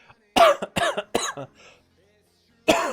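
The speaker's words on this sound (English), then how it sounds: "Sorry for the cough." A close-up burst of three quick coughs, a short pause, then a fourth cough.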